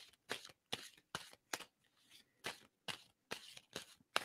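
Playing cards shuffled by hand in a quiet room, a series of about ten short crisp riffles at a steady rhythm, soft and close.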